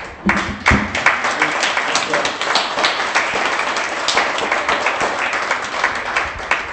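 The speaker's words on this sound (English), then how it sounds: "Please guys, stand up so that we can give you a big hand of applause" Audience applause at a 2017 university agreement-signing ceremony: a dense, steady wash of many hands clapping that holds at an even, fairly loud level throughout, with scattered sharper claps standing out.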